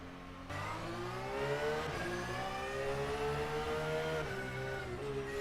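A Porsche race car engine at Spa in a racing video game drones steadily at high revs, with a sustained harmonic whine that dips briefly at each gear change, loud and close.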